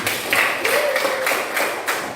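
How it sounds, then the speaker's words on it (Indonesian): Students in a classroom clap together in a rhythmic burst, about six or seven even beats at a brisk pace, fairly close and moderately loud with no talk over them. "Baik, tepuk tangan semua."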